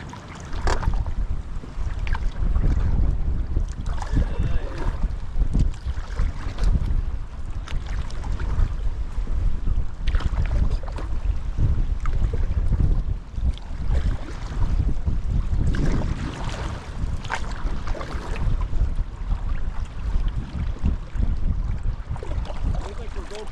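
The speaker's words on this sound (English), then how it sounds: "You got the current going one way, the wind going the other way." Strong wind roars steadily while a canoe is paddled on choppy, surf-like water with current and wind opposed, a continuous loud rushing gust noise with buffeting against the microphone and occasional water splashes throughout.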